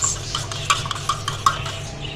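A spoon stirs Lab-e-shireen dessert mixture in a bowl, scraping and clinking against the sides in quick, close, uneven strokes, with no voices.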